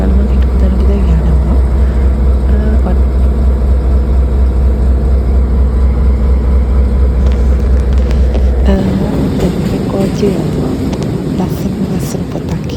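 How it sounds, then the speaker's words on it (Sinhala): A train on the Eastern railway line to Polonnaruwa, Sri Lanka, drones with a loud, constant engine rumble and heavy wind buffeting, and the tone shifts partway through as the running noise changes. "කෝච්චි එන්ජින් එකේ සද්ද අහගෙන"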